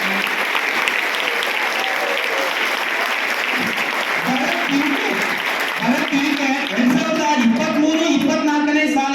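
Loud, dense applause from a school audience for students who represented the school at state and national level, sustained clapping close by with a few voices rising in the crowd.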